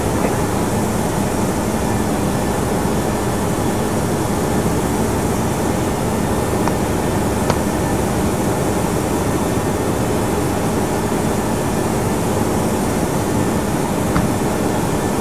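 A PMDG 737NGX airliner in the Prepar3D v4.1 flight simulator starts its takeoff on runway 27, with steady, loud broadband engine roar that holds constant throughout, with no speech.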